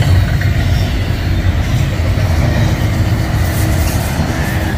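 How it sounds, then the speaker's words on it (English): An eastbound freight train on the Emporia subdivision in Olathe, Kansas rolls through S-curves: a loud, continuous low rumble of wheels and cars passing close by, steady throughout with no voices. "This was a 4x0 eastbound Q train on the Emporia sub, Olathe, Kansas, going through the S-curves."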